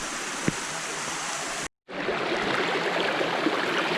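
Water rushing steadily down a natural rock waterfall slide in Shenandoah, a close, continuous broadband wash that cuts out briefly partway through, then resumes just as full.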